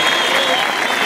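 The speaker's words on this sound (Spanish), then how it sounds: "Si le gusta, dígalo con un aplauso." Dense, loud crowd applause filling a packed bullring at a Mexican ranch event, sustained and continuous with a faint tonal ring running over the roar.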